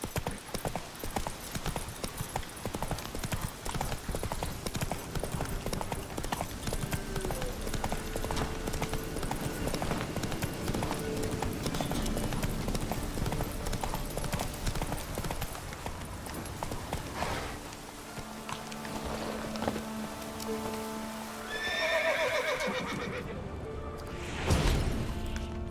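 Horse hooves gallop in a steady clip-clop rhythm through The Witcher 3 video game, close and loud over game music, with a brief whinny and a crash or whoosh near the end.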